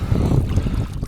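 Strong wind buffets the microphone in a steady low roar, with gusty rumbling throughout and no voices.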